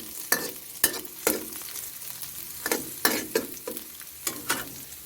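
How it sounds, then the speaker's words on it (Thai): Shiitake mushrooms and garlic fry in a thin, inexpensive wok over low heat, with a soft steady sizzle under repeated sharp scrapes and clacks of a spatula stirring the pan. "ใส่เห็ดหอมก่อนนะคะ เพราะว่าเห็ดหอมเนี่ยมัน ใช้เวลาทอดสักพักหนึ่ง"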